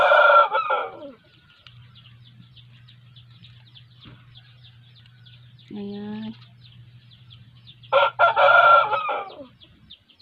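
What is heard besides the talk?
rooster crowing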